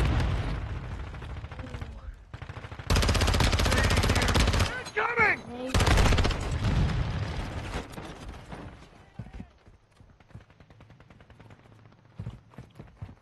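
Rapid automatic gunfire in a shooter game, loud sustained bursts broken by short pauses and mechanical clicks, then thinner scattered shots fading into quiet ticking as people talk over it.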